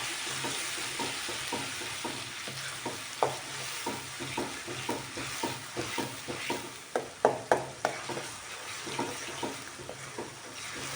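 Chopped onions sizzle in a hot pan for pav bhaji, with a spoon stirring in regular scraping strokes over a soft, steady frying hiss; quiet and close, no talking.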